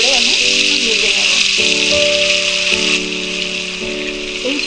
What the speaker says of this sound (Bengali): এবার আমি যে পনিরগুলো পিস করে রেখেছিলাম সেগুলো আমি এর মধ্যে দিয়ে দেব, দিয়ে হালকা করে আমি ভেজে নেব।